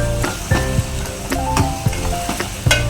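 Asafoetida and cumin seeds sizzling in hot oil for misal pav, a close, steady crackling fry with frequent sharp pops and spatters, the sound of stirring in the pan throughout.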